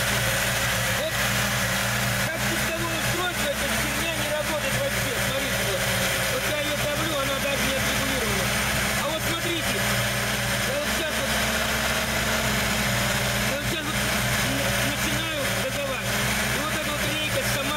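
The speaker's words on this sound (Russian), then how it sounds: "заведите машину" A car engine fitted with an Ozon carburetor idles steadily and evenly for the whole stretch, a constant low rumble with no revving, while voices murmur faintly in the background.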